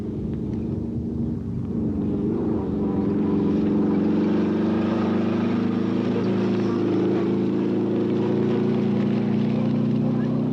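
A Toyota Corona rally car at the 1990 Dubai International Rally, low-slung and two-wheel drive, struggling over rough ground with a continuous loud, strained engine drone and rumble.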